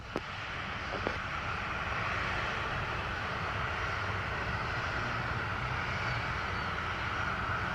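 An airplane lands at Montego Bay airport, its steady, loud engine roar filling the air without a break and close at hand.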